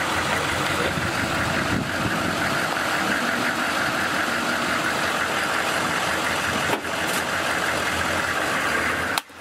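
A 7,000-pound truck idles and rumbles steadily up close as it rolls over a Pelican case, a low vibrating engine drone with a few brief knocks and no talk.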